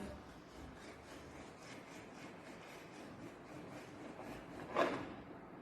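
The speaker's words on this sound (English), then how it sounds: "what you do is you drag your knife and with a back and forth motion, you just gently Scrape it off." A knife blade dragged back and forth over raw fish while prepping sushi, giving a soft, steady rasping scrape close by, with one brief louder scrape near the end.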